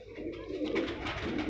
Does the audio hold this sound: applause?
no